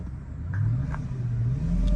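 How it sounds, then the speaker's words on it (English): A 2005 Mercedes CL600 twin turbo V12 that is lacking acceleration, with a faulty transmission. A steady engine drone is heard from inside the car, with a low tone that rises and falls and grows louder toward the end. "This is a 2005 CL600 twin turbo V12. What's that whine?"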